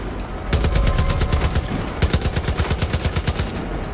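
Rapid bursts of automatic gunfire in the first-person shooter Far Cry 5 on Xbox One X, a sustained loud rattle followed by a second burst of distinct evenly spaced shots.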